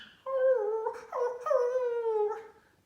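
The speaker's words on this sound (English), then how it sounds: "Beside the bog stood a dog who was howling." A dog howls in two long, wavering, rising-and-falling notes, close and clear with nothing else behind it, fading out at the end.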